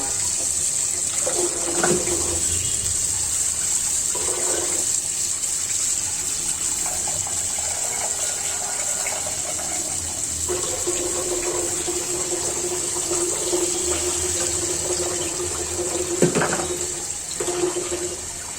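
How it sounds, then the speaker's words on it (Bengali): Water runs into a cooking pot, a steady close gush with slight changes in pitch as the pot fills, no voices over it. "একটু পানি অ্যাড করবো"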